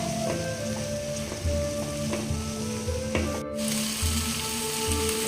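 Ridge gourd frying in a pan with green chilli, turmeric and red chilli powder gives a steady close sizzle, broken by periodic scraping knocks as it is stirred.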